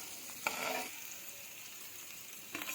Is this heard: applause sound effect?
no